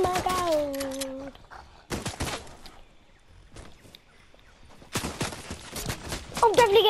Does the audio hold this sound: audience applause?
no